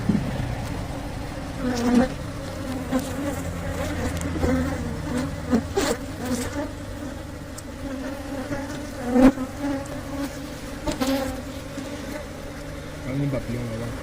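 Honeybees swarm around an opened hive, their dense continuous buzzing close by, with individual bees zipping past in brief louder swells over the steady hum.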